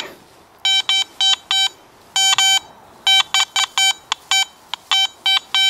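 A Garrett AT MAX metal detector sweeping ground littered with iron gives a series of sharp, bright tone beeps in irregular clusters, loud and close, with no talk.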